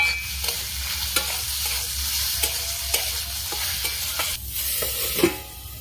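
Potato pieces with turmeric frying in a pan, steady close sizzle with repeated scraping strokes of a spatula at an even rhythm, no voices.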